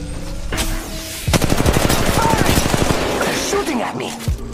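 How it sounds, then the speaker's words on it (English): Dense automatic gunfire in the Apex Legends Mobile video game, a loud rapid stream of shots starting after a second and running to the end over game sounds. "Gunfire coming our way."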